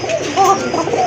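A pair of pigeons coo briefly and close up, low warbling notes rising and falling over a short burst.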